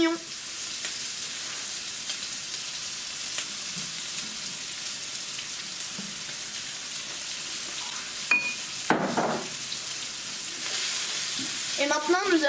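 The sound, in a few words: onions frying in a pan for tacos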